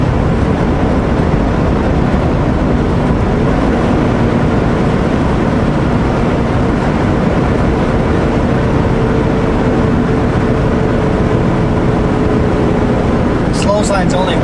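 A Kenworth W900L truck with a 500hp engine pulls uphill, its loud, steady diesel drone continuing without a break throughout, with a brief high rattle near the end.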